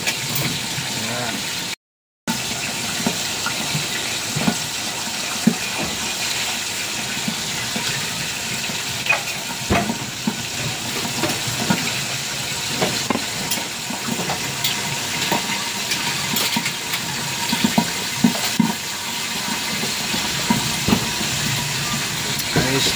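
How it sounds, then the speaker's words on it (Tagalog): Steady sizzling and hissing of milkfish frying in hot oil, with scattered sharp pops and crackles throughout, close and continuous. "naputok na yung prito"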